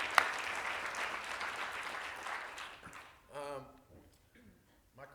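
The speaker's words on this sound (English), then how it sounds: "A round of applause for those Emmy nominations." An audience at a film producing talk applauds the Emmy nominations for Top of the Lake; moderate clapping runs for about three seconds, then stops as a voice begins speaking.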